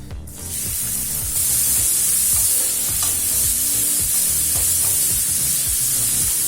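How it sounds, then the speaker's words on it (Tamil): Onions, cinnamon sticks and cloves sizzle steadily in hot oil. They are stirred with scraping clatter throughout, and the frying noise stays loud and close with no talk. "தேவையான அளவு எண்ணெய், முதல்ல 2 பட்டை, 2 கிராம்பு, அடுத்து பொடியா நறுக்குன 2 பெரிய வெங்காயம் சேர்த்துக்கலாம்."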